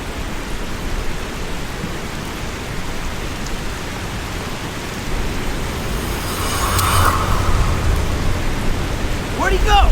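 Heavy rain pours in a steady, loud hiss with a low rumble, building slightly toward the end in a tense outdoor night scene.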